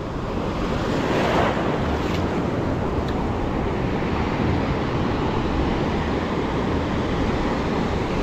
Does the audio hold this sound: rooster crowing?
no